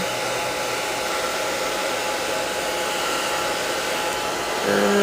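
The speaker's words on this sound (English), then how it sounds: "So use your hair dryer if you have one" A hair dryer drying gouache or watercolor paint, blowing continuously with a steady whirring hum, close and loud, a slight shift in tone near the end.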